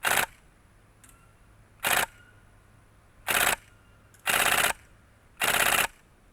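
A Silverback Desert Tech MDR-X airsoft rifle fires five rapid full-auto bursts, each a loud, tight buzzing rattle lasting a fraction of a second, separated by short quiet pauses indoors.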